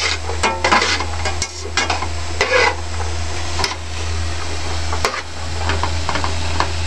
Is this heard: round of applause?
no